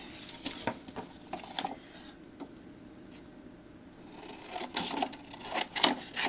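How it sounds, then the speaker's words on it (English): Paper being trimmed by hand for a vintage collage journal, with soft close snips and rasping rubs that come in irregular bursts and pause briefly midway, with no talking. "And again we'll go trimming."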